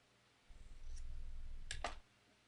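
Scissors cut through fabric while quilting, with a short low rustle and a couple of crisp snips close by in a quiet room.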